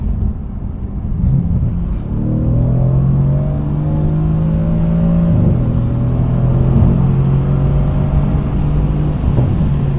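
A 500 HP Mercedes-AMG car pulls from a roll at 40 on a night drive, its engine note rising in a loud, sustained low rumble from inside the cabin for about ten seconds.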